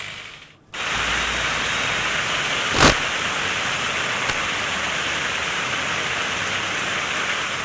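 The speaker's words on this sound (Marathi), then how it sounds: "उल्हासनगर अंबरनाथ भागामध्ये जोरदार पाऊस कोसळतोय" Heavy monsoon rain pours steadily over Ulhasnagar, a dense, continuous hiss after a brief quiet start, with one short louder splash or gust partway through and no voices.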